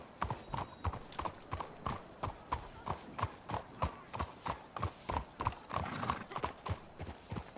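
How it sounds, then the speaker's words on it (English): Horse hooves trot in Red Dead Redemption 2, a regular clip-clop rhythm of several hooves on hard ground, close and steady with no talk over it. "Let's hitch the horses up ahead."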